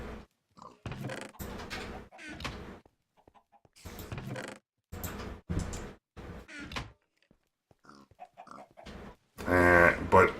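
Sheep in a modded Minecraft game, clicked to harvest wool with force shears, give several short bleating bursts at a steady moderate level, with a louder bleat near the end.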